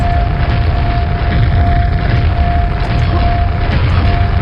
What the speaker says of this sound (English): I jump and throw grenades up.